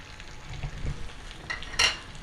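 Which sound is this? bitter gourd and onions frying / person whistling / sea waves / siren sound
bitter gourd and onions frying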